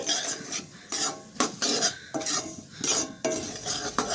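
Powdered sugar being stirred into roasted semolina in a pan for laddu, with a spoon scraping in quick, rhythmic strokes, close and fairly loud, with a light metallic edge.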